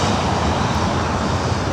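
A Southwest Airlines jet rolls down runway 24 right at Los Angeles, heard as a steady broadband engine rumble for a brief moment with no voices.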